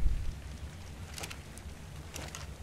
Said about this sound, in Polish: Pada.